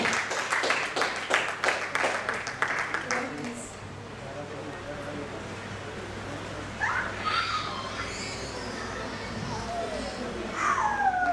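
Audience clapping and applauding at a fashion show event, a run of sharp claps early on that fades into a softer crowd murmur, with a voice speaking over the hall.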